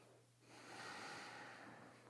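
Slow, deep breath drawn in during a yoga session, a soft airy rush that swells and holds steadily near the microphone with no talking.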